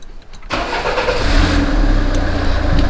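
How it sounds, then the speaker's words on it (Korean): A Peugeot 407 HDi diesel car starts after a short quiet moment: a quick crank catches into a loud, close engine that settles into a steady rumbling idle for the rest of the clip. "한번 시동을 걸어 보겠습니다"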